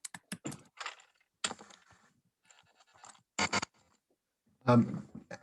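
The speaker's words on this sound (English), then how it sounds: "I will type that in." Typing on a computer keyboard: irregular bursts of clicking keystrokes, close and clear, with short pauses between runs of keys and quiet gaps between.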